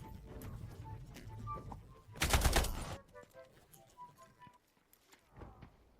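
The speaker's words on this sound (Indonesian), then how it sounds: "terdengar suara tembakan dari arah kompleks perumahan" A burst of gunfire rattles out in the Delta Force battle royale game, following scattered faint shots and game effects, loud for about a second before fading to quieter ambience.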